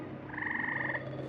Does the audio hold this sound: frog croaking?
yes